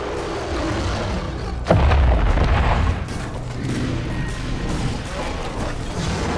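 A single heavy blast from a double-barrel shotgun in a video game, loud and close, with a booming tail that fades into steady background game noise.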